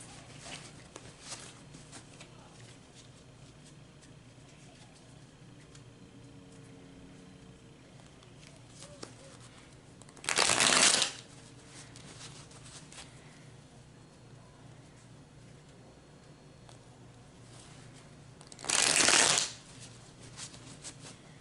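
Tarot cards being shuffled, two short, loud riffling bursts spaced several seconds apart against a quiet room with faint rustling in between.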